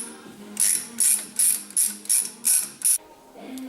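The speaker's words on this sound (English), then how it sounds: "now we can go ahead and remove the coil packs, and all you need is an E12 socket" Ratchet with an E12 socket removing coil pack retaining nuts on a Porsche Cayenne: about seven short, close ratcheting bursts in a quick regular rhythm, then a brief pause and one last click.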